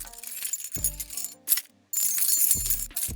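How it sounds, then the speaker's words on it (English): Car keys jangled and shaken as improvised percussion, several bursts of metallic clinking and rattling in a rhythmic pattern with brief gaps between them, close and fairly loud. "I've got my car keys right here. Let's do some Ramzoid style percussion."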